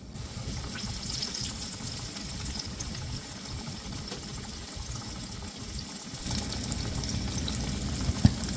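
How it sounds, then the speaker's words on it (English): Pork steak pieces frying in oil in a skillet, a steady broad sizzle holding evenly throughout and swelling a little louder near the end, with no talk over it. "I'm gonna fry him a couple of pieces of pork steak"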